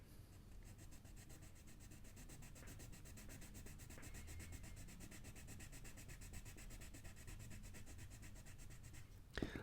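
A white coloured pencil scratching and rubbing steadily across paper, a close, continuous dry scraping with fine rapid strokes throughout, ending with a slightly louder scuff.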